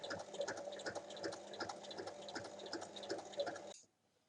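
A sewing machine runs steadily while topstitching fabric, its rapid rhythmic needle chatter humming close and unbroken for several seconds before stopping abruptly.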